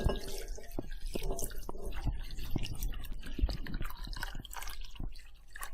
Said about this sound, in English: Pour it over the fruit.